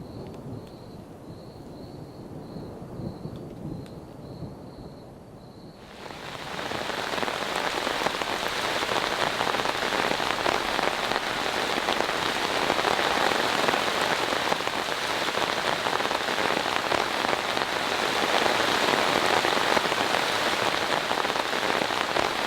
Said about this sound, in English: I looked at the radar and it's just non-stop storms, all of them coming this way.